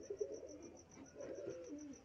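Pigeons cooing softly in a quiet setting, a few low rounded coos rising and fading, with a faint steady high tone running behind them.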